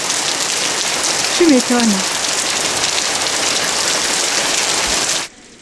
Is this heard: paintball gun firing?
no